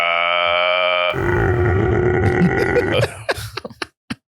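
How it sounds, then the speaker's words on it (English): A long, deep burp, loud and close, rumbling on for about three seconds after a brief sustained tone, then breaking into a few short croaks and clicks before trailing off. "When you burp, could you do it in that tone?"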